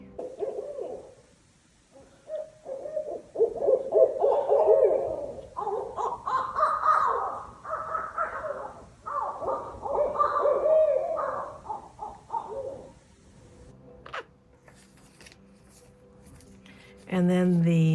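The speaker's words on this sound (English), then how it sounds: "I was hearing the owls hooting up in the woods here." Owls hoot in the woods in a played recording, with repeated soft hoots and calls alongside some harsher caws, near and fairly clear, before a brief sharp noise at the end.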